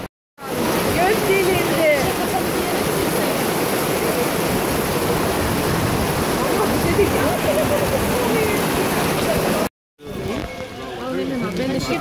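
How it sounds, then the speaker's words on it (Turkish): Rain falls steadily in Vienna, a dense, even hiss that fills the scene from start to finish with a brief break near the end, and voices are faintly mixed in beneath it. "Yağmur dinmesini bekliyoruz."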